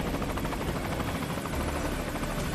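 Helicopter in the video game Metal Gear Solid V: Ground Zeroes, a steady loud rotor roar with dense broadband thrum filling the whole stretch, close and continuous with no talk.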